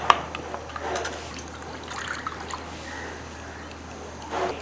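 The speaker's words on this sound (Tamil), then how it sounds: "இப்போ நான் எடுத்து வச்சுருக்க தேங்காயை நல்லா நைஸாக அரைச்சி கொண்டு வந்திருக்கேங்க. இதை அதில் விட போகிறேன்." Finely ground coconut paste is poured into a lentil dumpling gravy, with soft wet trickling and dripping sounds, a faint low hum underneath, and no voices.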